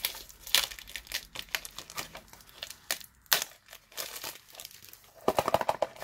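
A small booster-pack box is opened up close, with crisp, irregular crinkling and tearing of the wrapper. The sound comes in quick bursts with short pauses between them.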